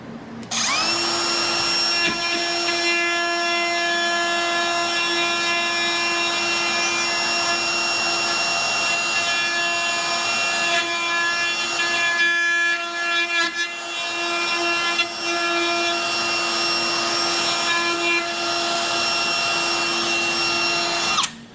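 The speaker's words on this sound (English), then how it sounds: "This plunge router is pretty cool because I can set it on there and I can push it in where I need" A plunge router runs continuously at a steady high-pitched whine while cutting wood, the motor drone holding loud and close for the whole stretch with slight dips mid-way.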